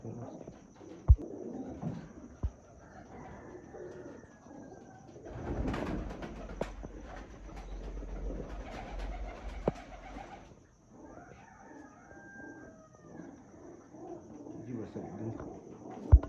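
Pigeons coo softly on and off over a steady background murmur, with occasional louder thumps and rustles nearby.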